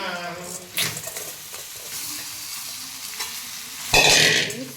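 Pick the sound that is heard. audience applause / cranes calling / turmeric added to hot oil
turmeric added to hot oil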